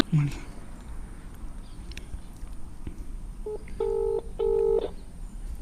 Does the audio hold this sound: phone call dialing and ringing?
yes